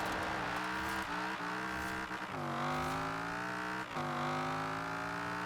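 A limousine engine in Forza Horizon 4 drones steadily at high revs, its pitch dropping sharply at several gear shifts, with no talking.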